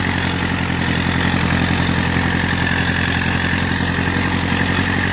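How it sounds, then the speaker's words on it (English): An old English Ferguson tractor engine runs at a steady idle, a loud continuous chugging drone with no voices over it. "Take this little Fergie for a spin."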